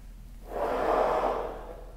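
Breathy rush of air blown into a trombone mouthpiece with no note sounding, a single soft, steady exhale that swells and fades over about two seconds.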